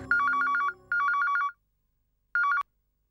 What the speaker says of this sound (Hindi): संजय प्लीज फोन उठाओ